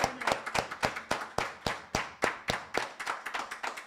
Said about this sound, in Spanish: Un aplauso para el rey, hermano.